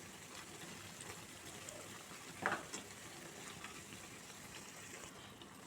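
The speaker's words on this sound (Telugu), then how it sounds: "ఇవి మొత్తం కొంచెం బాగా ఫ్రై అవ్వాలి ఇవి కొంచెం ఫ్రై అయినాయి ఇలా ఒక సైడ్ తిప్పుకుందామండి" Ajwain leaf bajjis frying in hot oil, a constant close crackling sizzle with a brief louder splash around the middle as a fritter is turned.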